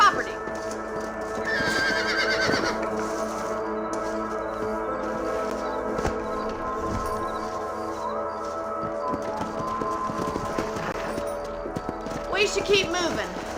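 A horse whinnies loudly in Red Dead Redemption, followed by continuous galloping hoofbeats over a rural property, with another loud neigh near the end; game voices and background score play alongside.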